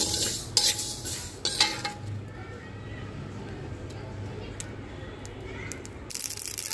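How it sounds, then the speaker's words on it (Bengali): Mustard seeds, black cumin and panch phoron frying dry for mango pickle, a soft crackling sizzle under metallic stirring clinks and scrapes of a utensil in the pan. "মুচমুচে ভাজা শুরু হয়ে গেছে"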